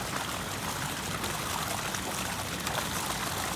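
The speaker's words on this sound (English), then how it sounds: "You can see them being flushed out of that pipe." Water rushing through a pipe from a trout hatchery on a North Carolina trout farm, flushing fish down the hill. The sound is a steady, dense gush at close range, without talk.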